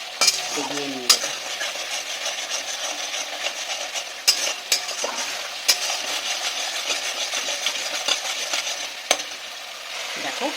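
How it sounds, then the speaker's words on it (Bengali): Spice paste with cashews and raisins fries in a pan, a constant sizzle under repeated scraping stirs and sharp spatula knocks against the metal, close and fairly loud. "তাই মশলাটাকে আমাকে ঘন ঘন নেড়ে এইভাবে এটাকে কষতে হবে।"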